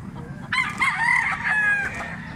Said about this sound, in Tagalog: Stag ni siya, stag.